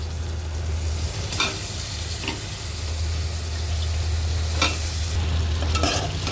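Cut stinging catfish pieces go into hot fried spice paste in a pan and get stirred, with a steady close sizzle broken by a few scraping stirs.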